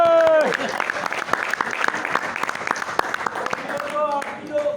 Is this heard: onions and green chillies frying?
no